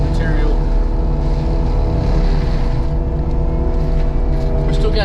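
A skid steer pushing mulch gives off a loud, continuous diesel engine roar close by, with its deep, even drone steady throughout.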